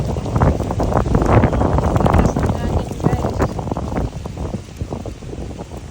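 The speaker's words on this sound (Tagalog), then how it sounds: "Mahangin, guys." Strong wind at Magic Island beach in Hawaii at sunset blows against the microphone in loud, uneven low buffeting gusts that ease slightly toward the end.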